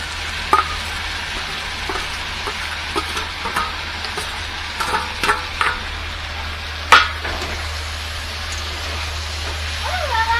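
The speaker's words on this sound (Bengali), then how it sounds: "মাছগুলো দেওয়ার পরে ভালো করে সবজির সাথে মিশিয়ে দিলাম।" A spatula scrapes and stirs spiced kachki fish into vegetables such as eggplant and stems in a pan, giving soft intermittent strokes with a few louder knocks over a faint steady sizzle, with no talking.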